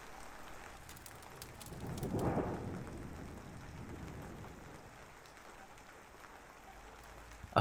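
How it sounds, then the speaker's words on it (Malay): Heavy rain falling steadily over a village homestay in the Borneo highlands, a constant wash of drops with a low rumble of distant thunder swelling briefly in the middle. "Hujan mula turun tidak henti-henti tidak lama selepas aku sampai di sini"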